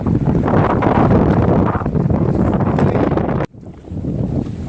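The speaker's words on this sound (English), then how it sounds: "Alright, I know we got a lot of wind." Loud, blustery wind on a boat on Lake St Clair roars and buffets steadily, then drops suddenly for a moment before rising again; no voices.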